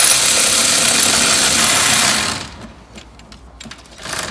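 An electric power tool zooms a cam chain tensioner bolt out of a BMW Mini N-series engine, a loud high whirring burst for about two seconds that then drops away to quieter clicks and handling.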